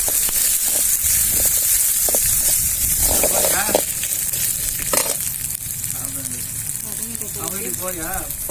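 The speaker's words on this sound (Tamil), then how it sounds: "அந்த பூண்டு, காஞ்ச மிளகாய், போட்டு நல்லா வதக்கணும்" Garlic and dried red chillies sauté in hot oil for spicy chutney, a continuous soft sizzling hiss running beneath a person talking throughout.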